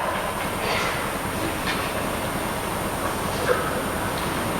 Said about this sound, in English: The Yonkers train is about to leave.